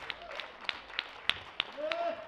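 A church congregation clapping hands in a Baptist service: several sharp, evenly spaced claps over a sung or spoken voice.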